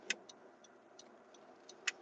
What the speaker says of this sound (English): another car just pulled up